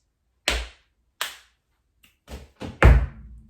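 A short body-percussion pattern: two sharp claps, a tiny snap, then thumping pats and a heavy stamp, evenly spaced and close.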